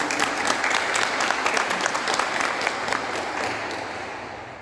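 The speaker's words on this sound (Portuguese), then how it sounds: "Vamos aplaudir a palavra de Deus" A church congregation applauds after a Gospel reading, a warm, sustained patter of many hands heard at some distance, slowly easing off over several seconds.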